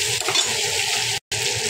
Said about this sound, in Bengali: দেখো বন্ধুরা, চিংড়ি মাছটা আমি নাড়াচাড়া করে নেব।